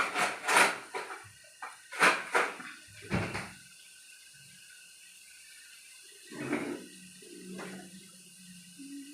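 A lid is set onto a cooking pot of mushroom curry, giving several sharp clattering knocks of metal in the first few seconds, followed by softer clinks and quiet kitchen shuffling, with no talking.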